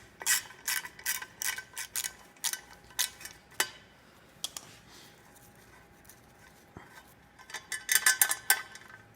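A ratchet wrench with a 10mm socket works loose the EGR tube on a Fiero GT intake plenum, giving bursts of quick, close clicking that pause midway and then return in a denser flurry.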